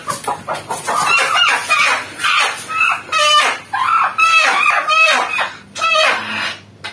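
Several desi chickens cluck and squawk loudly and close by, overlapping in busy, uneven bursts with a rooster-like call among them.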